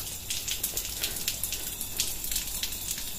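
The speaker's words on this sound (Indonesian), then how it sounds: "air ini mengalir sendiri, ada yang membuka keran." Water runs steadily from an open tap inside a small prayer room, a soft continuous splashing with faint drips, fairly quiet and with no voices.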